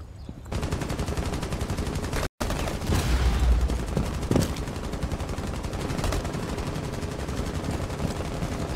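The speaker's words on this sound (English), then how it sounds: "hence the amount of bullets I just heard blowing up" Heavy automatic gunfire in Rainbow Six Siege, dense and continuous bursts of shots over several seconds with a brief cut-out, loud and close with no talk.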